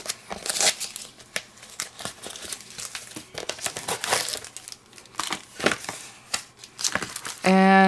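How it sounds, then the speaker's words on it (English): Crinkling and tearing of taped plastic packaging on a floral foliage die kit, a series of sharp crackles and rips up close, with a person talking briefly. "I'm trying to get into that tape so I can pop this open."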